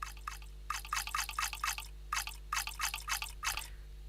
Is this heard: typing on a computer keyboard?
no